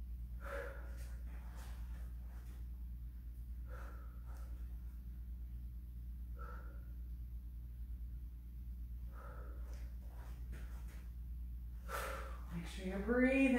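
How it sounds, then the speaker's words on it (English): Loud, deliberate breaths during a back body workout circuit, a series of forceful exhales and snorts spaced a few seconds apart over a low steady hum, close up, followed by a brief spoken voice at the end. "I breathe loud to remind you to"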